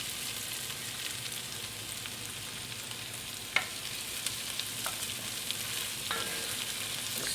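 Garlic sizzles in a pan with browned onions and beef bits for Hungarian goulash, a steady moderate frying hiss with a few sharp pops and faint utensil taps.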